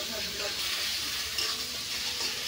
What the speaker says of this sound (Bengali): মাছের তেলটা ফুটবে